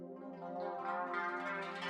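A water sample fed through a pair of Volander resonator synth modules, giving a steady, bright, ringing pitched drone with rich harmonics that swells slightly and holds for about two seconds, with no talking.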